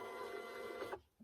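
Short burst of steady mechanical whirring from an office printer running a printout, loud and continuous, then cutting off abruptly near the end with a faint clunk.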